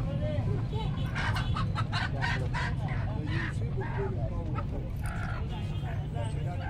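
Aseel and desi chickens and roosters cluck and call repeatedly at the Quetta vegetable market, a busy cluster of fowl sounds near the listener over a constant crowd hum, with someone talking throughout.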